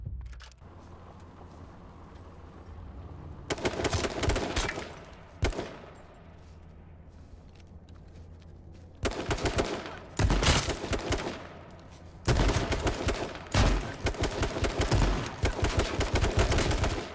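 Bursts of rapid gunfire ring out in H1Z1, loud and close, in several clusters separated by quieter gaps, with a few isolated single shots between them.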